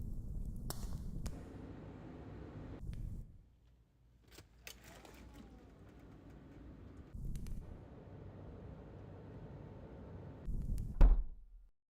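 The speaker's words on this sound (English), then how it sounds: "Heavy door" A heavy door sound effect plays as a sequence of deep thuds and knocks, with creaks and rumbling between them and a final loud slam near the end, all without talking.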